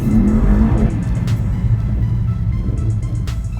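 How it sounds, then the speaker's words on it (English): A 2019 Mercedes E63S 4MATIC accelerating hard on tarmac, its engine roaring loud and steady from inside the car, with no talking. "I'm going to take you for a little blast in this car and show you how we roll."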